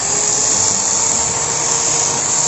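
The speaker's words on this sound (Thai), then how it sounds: "ขึ้นแล้วมากดสว่านดูปึ๊บ" An electric drill powered by a used solar panel setup runs continuously with a steady high-pitched motor whine, loud and close, with no voices.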